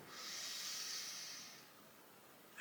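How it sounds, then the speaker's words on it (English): A slow, deep yoga inhale drawn in through the nose, heard as a steady airy hiss that swells and then tapers off over a couple of seconds, close and alone. "we're going to take 5 big breaths like this, breathing in"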